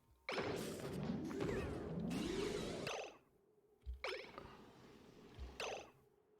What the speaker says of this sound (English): Ooh, rocket debris.